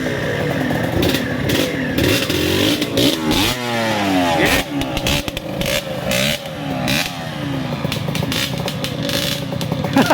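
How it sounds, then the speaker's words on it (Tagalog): Several motorcycle engines rev and rumble nearby, pitches rising and falling as they pass and accelerate in busy traffic. "Ang daming motor."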